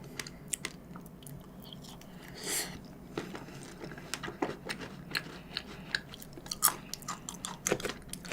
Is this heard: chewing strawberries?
yes